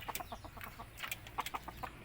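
A Surin-line decoy fighting rooster gives soft, rapid clucks in a quick uneven series, faint and close against a low rumbling background.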